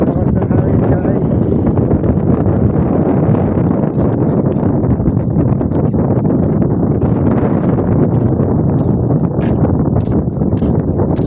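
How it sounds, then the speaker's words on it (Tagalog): Strong wind buffets hard and continuously at Busali, Biliran, Leyte, a loud, unbroken roar of gusts across the whole stretch, with voices faintly under it. "Lakas ng hangin"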